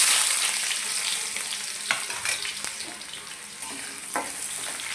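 Onion dropped into hot oil with roasted cumin and curry leaves for zunka, a steady close sizzle with scattered stirring scrapes and clicks, no voices.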